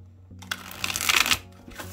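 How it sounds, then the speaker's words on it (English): Thin, bendy cardstock tarot cards being shuffled by hand, a soft riffling flutter that builds to a dense burst of card slaps and then trails off, close and fairly quiet with no talking. "Let me just go ahead and shuffle real quick."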